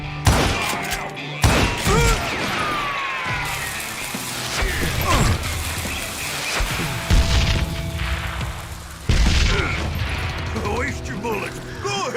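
Gunfire in the Call of Juarez: Gunslinger Western video game, scattered loud shots and impacts breaking through a busy background of music and effects, with a voice talking at times.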